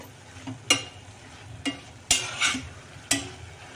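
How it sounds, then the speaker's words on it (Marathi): Washed amaranth (tandulja) greens being stir-fried in a pan, with a few sharp scraping stirs and soft sizzling bursts spaced out over a quiet background, close and fairly faint. "ही टाकल्यावर ही भाजी अशी परतून घ्यायची आहे व्यवस्थित"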